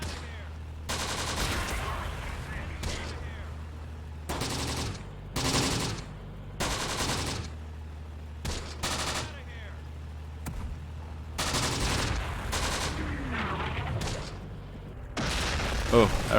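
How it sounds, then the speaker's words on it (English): Battle in the Close Combat: The Bloody First video game, with repeated bursts of gunfire and booming artillery, one shell exploding close by, loud and intermittent, while someone speaks between the shots. "that artillery shot was a little close for comfort there"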